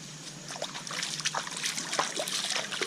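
Natural spring water trickles through a shallow creek in a continuous, gentle dribble with small bubbling splashes, close by and fairly quiet.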